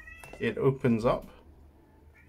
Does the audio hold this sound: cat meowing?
yes